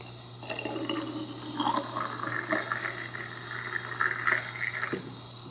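Developer chemical pours into a Jobo film tank for 35mm film, a close, steady trickle and gurgle of liquid lasting several seconds over a faint background hum.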